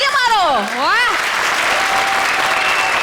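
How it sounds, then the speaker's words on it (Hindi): Studio audience on an Indian comedy show bursts into loud, sustained applause right after a man's vocal exclamation, the clapping filling the room evenly for several seconds. "क्या बात बोल दी, तालियां मारो।"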